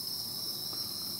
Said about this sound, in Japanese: セミだ。